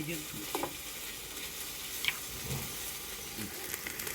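Garlic-ginger paste sizzles steadily in a hot pan while being stirred for a jackfruit biryani, giving a soft, close frying hiss with occasional scraping taps of the spoon.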